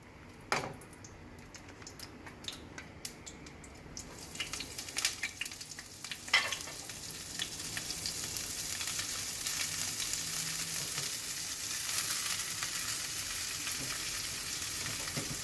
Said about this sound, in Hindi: हम सब्जी को थोड़ा बहुत पकाएंगे इसके अंदर पहले